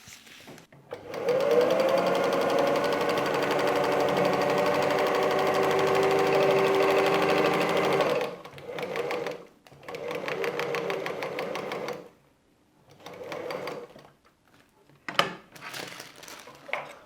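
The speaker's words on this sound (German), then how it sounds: "Und wir nähen." A sewing machine stitches patchwork with a long, continuous steady whir, then several shorter bursts of stitching separated by pauses and light handling clatter.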